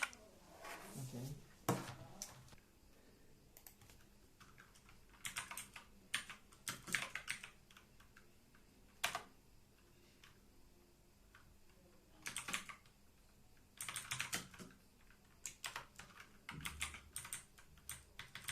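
Keys clacking on a Walton KM02 budget mechanical keyboard, with clicky strokes arriving in irregular bursts and short runs separated by pauses, close and moderately loud with no talk.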